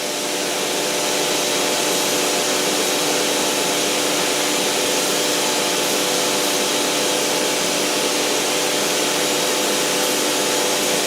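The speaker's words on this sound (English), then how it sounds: "I move the spindle up to the two sensor." A CNC machine's spindle on a Syntec 6MD controller hums with a steady, loud whine and whirring drive noise while it travels up toward the tool sensor, continuous and unbroken throughout with no talking.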